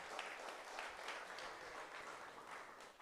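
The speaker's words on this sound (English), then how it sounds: "I think that deserves a round of applause." A town hall audience at a school claps steadily, a soft, even wash of applause that holds for a few seconds at a modest, distant level.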